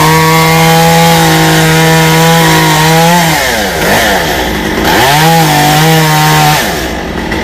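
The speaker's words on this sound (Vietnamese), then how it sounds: "Máy cưa này bà của Hoa có châm nhớt vào cái ở phía trong rồi, nhưng mà nó vẫn chưa có bóp lắm." Chainsaw cutting into a foxtail palm trunk: the engine holds a loud steady whine, dips and bogs twice as the chain bites, then recovers, close up and dominant throughout.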